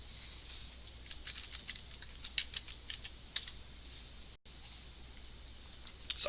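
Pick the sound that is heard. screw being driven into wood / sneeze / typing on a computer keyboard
typing on a computer keyboard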